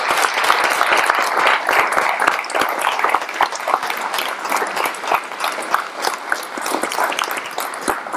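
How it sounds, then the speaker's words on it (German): Audience at a university talk show event clapping for the helpers, a dense, loud round of applause that carries steadily through to the end. "Für die kann man mal ganz kurz klatschen."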